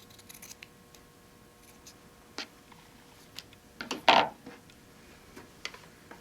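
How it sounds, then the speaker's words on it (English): Scissors snip through a fabric piece for quilting, giving sparse quiet clicks and a louder crunchy cut near the end, close and otherwise quiet with no talking. "I'm going to trim this piece off."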